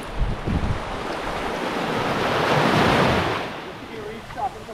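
Surf rolls and washes ashore at Lovers Bay, a pink sand beach in Charlotteville, Tobago, a broad hiss of breaking waves that swells and fades, loud and close, with wind buffeting the microphone.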